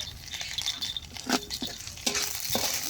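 Leafy greens (shak) frying in a pan in a home kitchen, with steady sizzling under clattering stirring strokes at close range and no talking.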